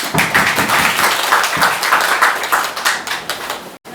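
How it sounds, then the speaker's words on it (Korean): A dense burst of audience applause at a book launch celebration fills the room, many hands clapping steadily and loudly before a brief cut near the end. "귀한 말씀 남겨주신 이강복 이사장님께 다시 한번 어, 박수 한번 부탁드리겠습니다"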